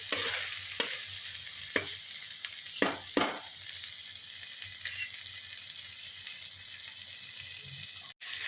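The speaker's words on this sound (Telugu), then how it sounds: "చూసారా అల్లం వెల్లుల్లి పేస్ట్ కొంచెం ఫ్రై అవనిద్దాము" Ginger garlic paste fries in oil for tomato rice, a continuous close sizzle broken by several scraping stirs of a spoon against the pan early on.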